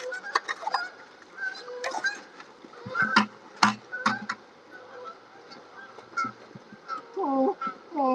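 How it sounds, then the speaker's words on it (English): Geese honking near a farmyard where water is being run into buckets, with repeated nasal honks scattered across the scene and a closer rapid run of calls near the end, amid some background voices. "More geese."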